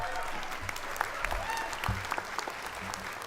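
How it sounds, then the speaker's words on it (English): A commencement ceremony audience applauds, a dense bed of clapping with some voices and crowd noise mixed in, steady throughout. "Give them a round of applause"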